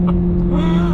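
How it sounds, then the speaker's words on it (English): A 2023 Chevrolet Corvette Z06's naturally aspirated 670-horsepower V8 revs with a loud, close, steady droning roar for about one second. "having a naturally aspirated V8 that sounds this good and makes 670 horsepower is truly something special"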